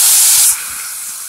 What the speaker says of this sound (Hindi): जीरा को हम चटकने देंगे और इसमें हम स्टीम किया हुआ राइस डाल देंगे